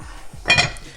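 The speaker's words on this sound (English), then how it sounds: "Stick a lid on that." A single metallic clank of a lid set onto a pot, short and close, with a faint ring after.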